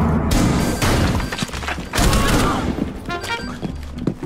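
Rapid gunfire and heavy thuds in a Rainbow Six Siege match, loud and dense bursts filling the whole stretch with a brief lull before resuming.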